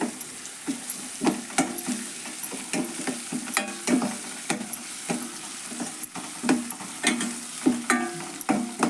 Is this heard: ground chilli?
yes